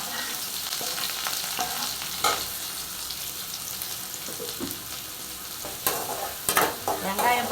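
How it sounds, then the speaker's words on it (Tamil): Green chilies and onions sautéing in hot oil for a Tamil carrot, beans and egg stir-fry, a steady close sizzle broken by a few sharp stirring scrapes and clatters near the end, no voices. "பச்சை மிளகாயம் வெங்காயம் ரெண்டையும் போட்டு வதக்கிக்கலாம்."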